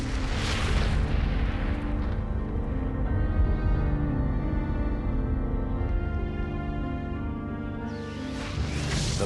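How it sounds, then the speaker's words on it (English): The atomic bomb test explosion at Alamogordo, New Mexico: a sustained, loud, deep rumbling roar that holds steady for several seconds with a rushing edge, swelling again near the end, with no voices. "a test weapon was detonated in Alamogordo"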